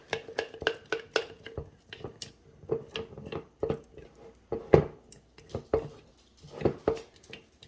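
A spoon stirs a thick sourdough starter mixture vigorously, making a run of sticky, wet scraping and clacking strokes in an irregular rhythm, close and fairly quiet.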